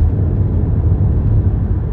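A Renaultsport Clio 200 Gordini with a 2.0 engine idles in clean condition, giving a steady, even low rumble that holds at a constant level without revving or other sounds.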